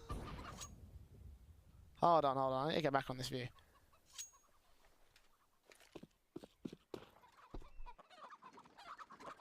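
A burst of loud, rhythmic clucking from chickens in Counter-Strike: Global Offensive, then scattered fainter clucks and clicks, with a person talking briefly in between.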